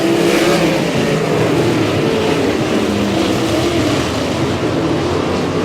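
A sprint car at Humboldt Speedway accelerates hard off the corner, its engine roaring loud and continuous with a strong, sustained pitch and other cars blending into the wide, dense racing noise.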